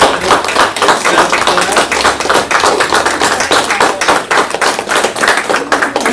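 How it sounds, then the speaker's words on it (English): A small group at a county commissioners court meeting gives a standing round of applause, crisp close handclaps in a quick, uneven rhythm, loud and continuous with scattered taps and thumps. "Judge, can we give them a round of applause, sir?"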